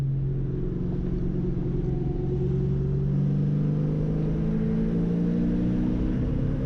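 A 1993 Ford Mustang Foxbody with a 5.0L engine and a misfire: a steady, droning engine rumble held at constant revs, with its tone wavering slightly throughout and no voices.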